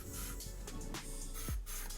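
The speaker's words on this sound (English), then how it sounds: "And I spray this the same direction that I spray the rest of the hair." Hair shine product is sprayed onto a styled bob in short, close hissing bursts, with quiet handling sounds between sprays.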